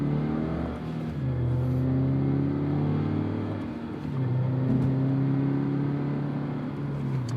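A 2022 Subaru BRZ Rally Edition engine revs and drops through quick gear shifts on a rally course, loud and close, with the pitch climbing, dipping at each shift near one and four seconds, then climbing again.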